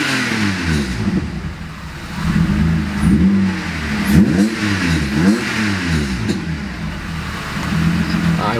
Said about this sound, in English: Check out how fast it revs.